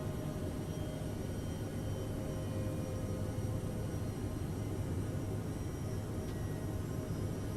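CRJ jet in Microsoft Flight Simulator, a steady broadband engine roar with a low droning hum, constant and unbroken throughout with no talk.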